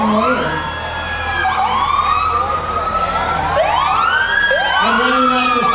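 A Brookville Fire Department squad truck rolls through a July 4th parade, its siren wailing up and down in repeated loud sweeps with an air horn layered over it, close by and continuous.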